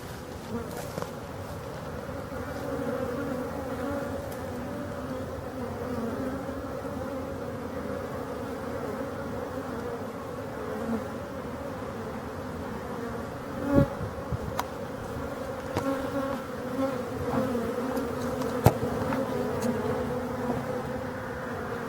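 Steady, dense buzzing of many honeybees at a busy apiary hive in full activity with foragers bringing in heavy loads of pollen, a continuous drone close by with occasional brief louder passes of individual bees.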